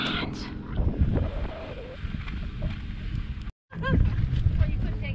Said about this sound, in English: the wind is really, really bad